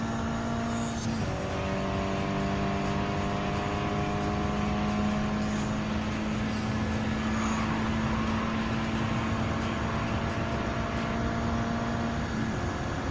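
Race car engine in Gran Turismo 7, held at a steady high drone in high gear with a brief shift early on, loud and continuous with no talk over it.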